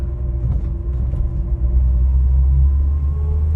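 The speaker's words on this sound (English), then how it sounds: "Oh, nice lusty 6-cylinder noise." A 1959 Vauxhall Velox PA with a six-cylinder engine drives on a road, giving a steady, loud low rumble that swells slightly partway through, heard close from inside the car.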